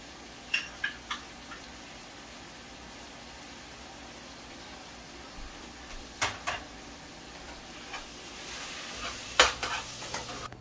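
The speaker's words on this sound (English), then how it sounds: "so I'm adding in my mango now and my okra also to bojji up with the masala" Mango and okra frying with masala in a pot give a faint, steady sizzle, with several sharp utensil clinks and stirring scrapes scattered across it. The clinks cluster near the start, middle and end.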